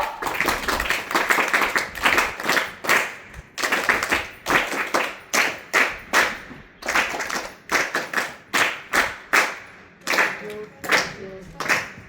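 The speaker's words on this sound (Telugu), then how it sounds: "can we give a welcome clap and then thank you clap both" An audience at a Telangana song-and-games event gives a welcome round of applause, loud rhythmic clapping in repeated bursts of many hands that carries on for several seconds with short pauses between waves.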